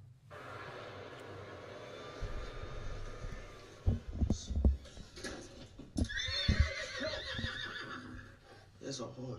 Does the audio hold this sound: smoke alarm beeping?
no